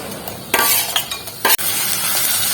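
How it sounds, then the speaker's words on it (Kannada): Chillies, garlic and ginger sizzle in hot oil in a home kitchen, with a steady crackling fry broken by a few sharp metallic clinks and scraping stirs of a spoon against the pan. "ಮೆಣಸಿನ್ಕಾಯಿ ಬೆಳ್ಳುಳ್ಳಿ ಶುಂಠಿ ಎಲ್ಲ ಹಾಕಿ ಫ್ರೈ ಮಾಡ್ಬೇಕು"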